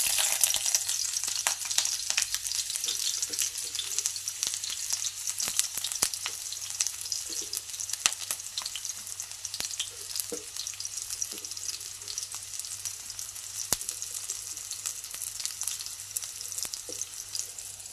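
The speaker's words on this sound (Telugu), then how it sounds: "ఉల్లిపాయలు వేసేసుకుందాం." Chopped onions dropped into hot oil for upma, frying with a loud, continuous crackling sizzle and scattered pops throughout, close up and without any voices.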